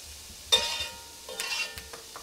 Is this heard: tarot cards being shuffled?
no